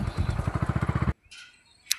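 A motorcycle engine runs close by with a fast, pulsing idle for about a second and then cuts off abruptly, leaving quiet background noise and a brief faint sound near the end.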